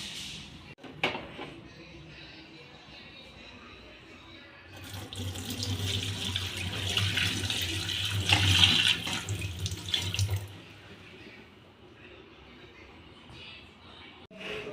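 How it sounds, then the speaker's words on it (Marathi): Hot water pours steadily down a sink drain for several seconds, rising then stopping, with quiet surroundings before and after. "आता आपण गरम पाणी झालं टाकूया"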